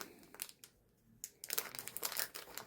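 A used mylar potato crisp bag crinkles and crackles close up as it is handled and cut, with short bursts of rustling and a brief lull partway through, no voices.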